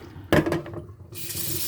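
Salmon rinsed under a running kitchen tap, with a brief splash and clatter first, then a steady, close rush of water hissing into the sink.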